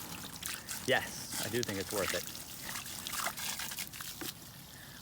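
Water pouring and trickling over ceramic-coated car wheels being rinsed clean with only water and a brush, close and steady, under someone talking.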